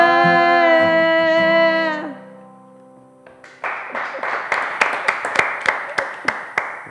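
Audience applause at an Italian sports TV talk show, a burst of scattered claps rising after a sustained tonal music chord fades, growing denser and louder toward the end.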